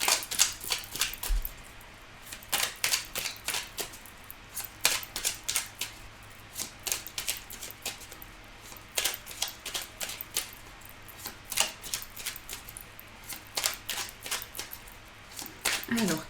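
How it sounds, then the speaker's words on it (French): Tarot cards are gathered and shuffled by hand, a close run of crisp rapid riffling clicks and papery flutters in uneven bursts, with quiet talk underneath. "Hop, je récupère toutes les cartes."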